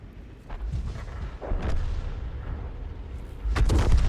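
A self-propelled M44 artillery gun fires in a tank video game, heavy booming reports at the start and again near the end, with muffled engine rumble and ambience in between.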